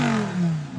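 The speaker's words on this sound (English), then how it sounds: "rev up the Lamborghini" A Lamborghini Performante engine revs briefly, a short rising then falling mechanical whine heard close and fairly loud, with no talking.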